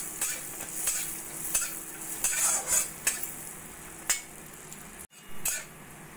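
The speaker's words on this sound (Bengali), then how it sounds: "কাজু আর কিশমিশটা একটু হালকা সোনালি করে আমি ভেজে নেব।" Cashews and raisins fry in a cube of butter in a hot wok, giving a soft sizzle punctuated by uneven scraping and tapping strokes of a spatula against the metal, with one brief pause near the end.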